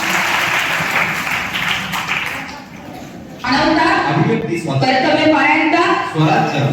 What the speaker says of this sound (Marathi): जोरदार टाळ्या या विद्यार्थ्यांसाठी।